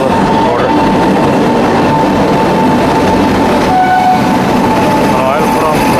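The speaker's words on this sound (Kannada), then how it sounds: "ಬಂತು ನೋಡ್ರಿ 2ನೇ ಪ್ಲ್ಯಾಟ್ಫಾರ್ಮಾಗ 6:20 16339 ನಾಗರ್ಕೋಯಿಲ್ ಎಕ್ಸ್ಪ್ರೆಸ್" Train 16339, the Nagercoil Express, pulls into platform 2 at an Indian railway station with a loud, continuous rumble and rattle of passing coaches, a brief horn-like tone partway through, and people talking nearby.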